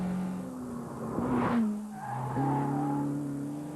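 A Lotus Exige sports car engine revs and pulls through gear changes, tires squealing briefly midway as it is pushed hard.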